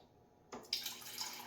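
Water pours from a refrigerator dispenser after the fridge plumbing is hooked up: a quiet hum, then a sudden splashing stream begins and keeps running, close and soft.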